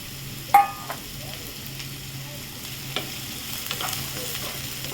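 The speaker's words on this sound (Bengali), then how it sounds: "তারপরে দিচ্ছি কুচনো পেঁয়াজ। পুরোটা দিয়ে এটাকে ভালোভাবে নাড়াচাড়া করে নেব।" Chopped onions fry with a low, steady sizzle in a pan at home, broken by a few light scrapes and knocks as a spoon stirs them.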